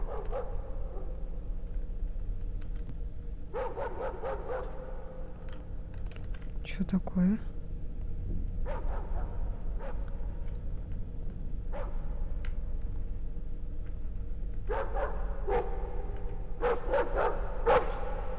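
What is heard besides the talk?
dog barking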